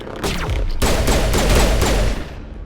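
Sniper gunfire in the video game Mass Effect: a loud, dense volley of rapid shots with sharp repeated cracks, running for about two seconds before cutting off abruptly into near quiet, with no talking.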